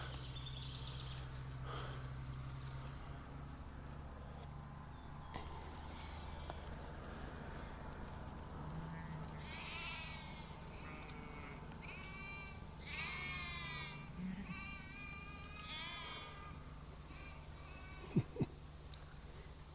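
Goats bleating on a farm with sheep-like cries rising several times over a steady outdoor hum, fairly distant, with a brief sharp knock near the end.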